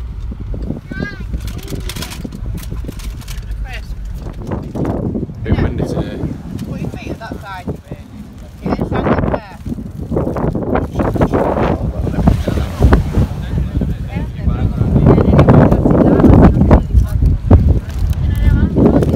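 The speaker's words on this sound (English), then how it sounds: "It's really windy today as well." Strong wind on a Tenerife beach buffets the microphone in loud, rumbling gusts that rise and fall, growing heavier toward the end, with people talking underneath.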